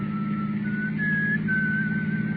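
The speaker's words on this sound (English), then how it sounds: "Then I heard him whistle." A man whistles a steady, wavering tune over a constant low engine hum, with no talking.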